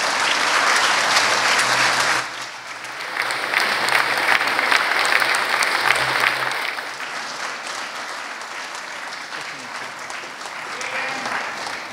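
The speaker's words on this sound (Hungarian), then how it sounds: "Tapsoljuk meg, kedves Mihály!" An audience at an art exhibition opening claps steadily and warmly, a dense sustained applause that dips briefly, swells again and slowly thins toward the end.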